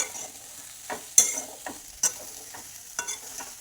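Tomato poha with coriander being stirred in a pan, close scraping strokes of a spoon at irregular intervals over a soft background sizzle.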